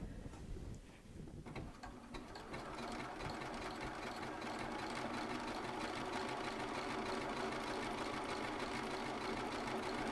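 A Bernina sewing machine stitching a wide zigzag at about 6.5 width makes a steady, rapid mechanical whir with a fine needle rhythm, close and continuous throughout with no voices.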